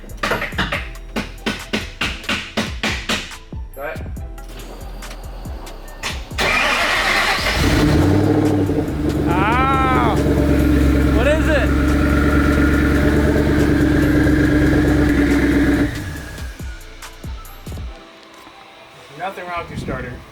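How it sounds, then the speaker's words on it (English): A twin-turbo Boss 302 V8 whose starter is jumped with a screwdriver: a rapid series of cranking pulses, then the engine catches and runs with a loud, steady idle for about eight seconds before cutting off, with voices around it. "We're gonna tap the starter and see if it turns over."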